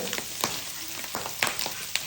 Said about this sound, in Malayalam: കക്കയും കൂടെ അടുത്തത് നമ്മൾ വറുത്തെടുക്കുന്നുണ്ട്